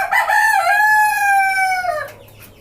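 A white tiger breed rooster crows once, loud and close, in a long rising-then-falling cock-a-doodle-doo on a poultry farm raising desi and tiger chickens.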